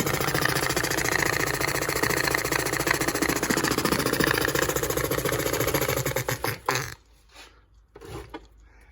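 Antique military air compressor running loud and close with a rapid, steady mechanical chugging and clatter, then cutting off abruptly near the end, leaving only faint brief knocks.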